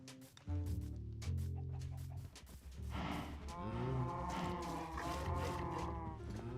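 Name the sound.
cows mooing in Minecraft video game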